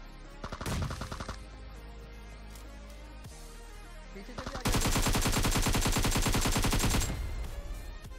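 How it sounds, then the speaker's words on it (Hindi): Automatic weapon fire in the battle royale game BGMI comes in two sustained bursts, a short one early and a louder, longer stretch in the middle, with the dense rattle fading out afterward. "तो मैंने फायरिंग नहीं रोकी ड्रॉप शॉट में"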